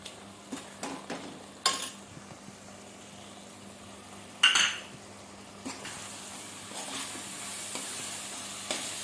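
Ginger garlic paste and onion paste fry quietly in a pan, a thin, low sizzle with a few light clinks of a utensil and one louder clatter of metal partway through.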